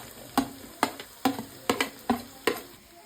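Ginger, garlic and green chilies sauté for a mango pickle, with a spoon stirring in rhythmic strokes, roughly seven scraping clacks against the pan over a soft steady sizzle, close and clear with no talking.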